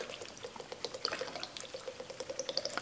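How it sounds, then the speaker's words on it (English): Beef broth poured into a pot of beef stew, a soft, quiet liquid trickle with small dripping plops scattered through the short stretch. "So I'll dump in about a cup to 2 cups, right about 2 cups here of beef broth"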